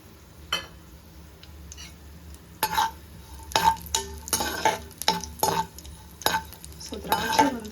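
Raisins frying in a pan for paal payasam, a faint sizzle under a run of sharp spoon scrapes and taps against the pan, irregular at first and then coming in quick succession.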